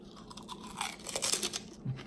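Crunchy Korean kimchi barbecue pork rinds are chewed close to the mic, giving a quick run of sharp, brittle crunches over about two seconds.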